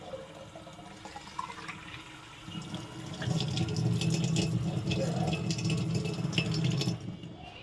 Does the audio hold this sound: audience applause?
no